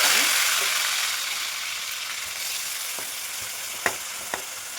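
Onion paste frying in hot oil for a fish curry, a steady loud sizzle that eases slightly over time, with a few faint clicks of stirring near the end.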